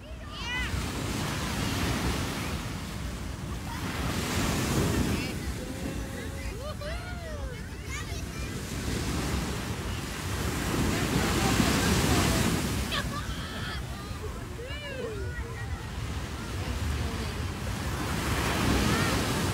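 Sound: ocean waves on the sea shore

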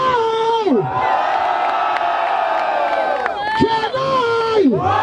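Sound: crowd cheering for rap battle MC Gordão

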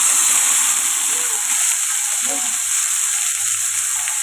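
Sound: onion, cashew and tomato paste frying for paneer masala

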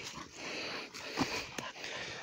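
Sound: dogs

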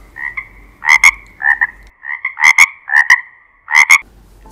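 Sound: frogs croaking

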